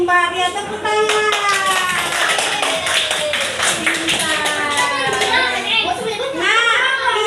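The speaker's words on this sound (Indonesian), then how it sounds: "Ya, tepuk tangan." Schoolchildren clap their hands in a classroom, a brisk burst of claps mixed with children's voices and an adult talking over it, lively and close throughout.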